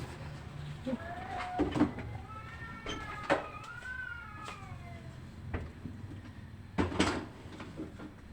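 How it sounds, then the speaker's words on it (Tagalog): Several cats meow in drawn-out, rising and falling cries, spaced apart, alongside occasional knocks and clatter in a quiet room. "Ang ingay ng mga pusa"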